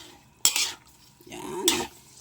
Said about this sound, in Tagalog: Pag ganyan na po ay hahaluin natin ng bahagya lamang.